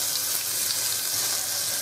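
Garlic chili paste hitting hot tempering oil with hing and turmeric, a dense, even hiss of sizzling that holds steady and close for the whole moment.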